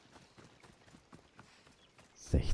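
Horse hooves clip-clop in the video game Assassin's Creed Odyssey, a steady run of soft, quick hoofbeats at moderate distance, ending in a louder burst of sound.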